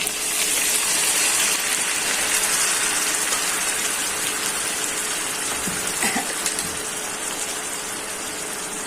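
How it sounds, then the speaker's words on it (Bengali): Water poured onto spices frying with onions for a Bengali pabda fish curry makes a loud, continuous rushing hiss that slowly eases over several seconds, with no speech. "মশলাটা যাতে পুড়ে না যায়, হালকা একটু জল দিয়ে নিই।"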